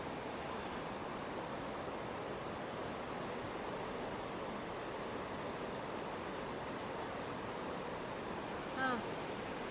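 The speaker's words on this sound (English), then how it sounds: "we can hear down below in the river, we can hear the whitewater rafters going down." Whitewater rapids on the river below Harpers Ferry, a steady broadband rushing roar heard from a distance throughout, with a brief faint voice near the end.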